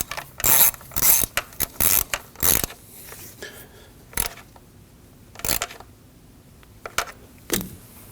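A ratchet wrench tightens the coil pack stud on the valve cover of a 2015-2024 Ford Edge engine. It clicks in close, sharp bursts, with short pauses between the bursts of ratcheting.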